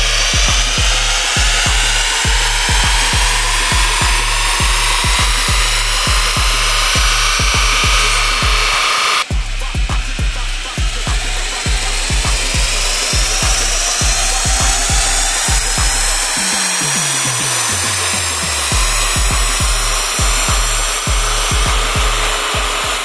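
A stock VW MK8 GTI roars through a loud, sustained pull on a dyno, its engine note climbing steadily with an abrupt shift break midway and another change later, droning continuously without voices.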